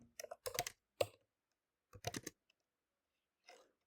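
Close computer keyboard typing for a Linux command-line session: quick clusters of crisp key clicks separated by short pauses, with no talking.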